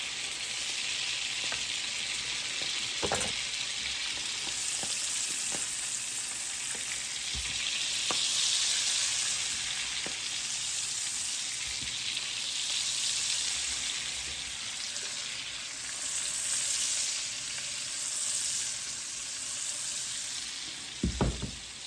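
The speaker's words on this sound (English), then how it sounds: "You want them to get a good sear on them" Food searing in butter in a hot pan gives a continuous bright sizzle that swells and eases, broken by occasional light ticks and taps from the cookware.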